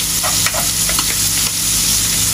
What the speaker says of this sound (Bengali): মাছ ভাজলেই ফুটে,